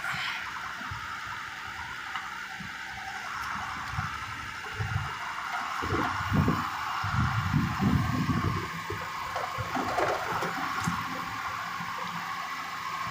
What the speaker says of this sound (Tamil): தண்ணி அள்ளி விளாட்றாங்க.